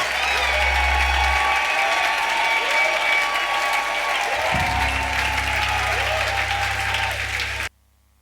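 A large church congregation applauds steadily in praise, a dense wash of clapping that carries on unbroken for several seconds before cutting off abruptly.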